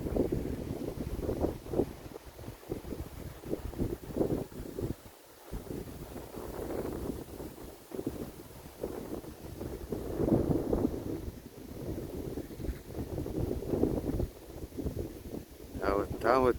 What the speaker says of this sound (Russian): Огромная. И сильный ветер.